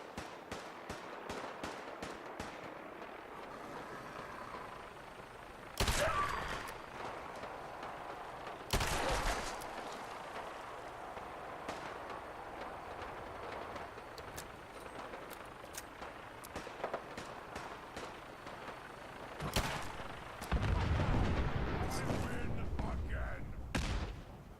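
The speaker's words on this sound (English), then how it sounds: "They just shoot down the Brotherhood." Gunfire in Fallout 4 VR: rapid rattling volleys early on, then scattered single shots and heavier blasts at intervals, moderately distant and mixed with ambient game noise.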